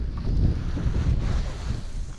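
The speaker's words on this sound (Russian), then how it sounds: "Поднялся ветер" Wind buffets the microphone with a low, steady rumble over open water on a rainy fishing day, with no voices.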